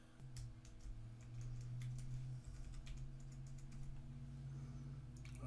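Fingers typing a password on a computer keyboard, quiet irregular clicks of keystrokes over a low steady electronic hum, faint and close, no speech.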